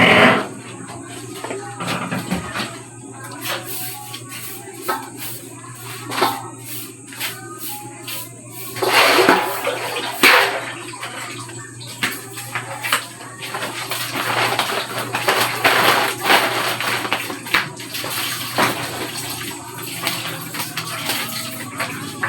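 Tap water runs into a kitchen sink during cleaning, with an ongoing splash and intermittent clatter and scrubbing noises that rise and fall throughout.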